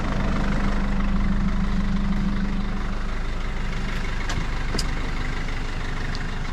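A rough old Mercedes 207 van with flat tyres runs its diesel engine, a loud, steady low chugging idle close by with a few sharp clanks over it, no talking.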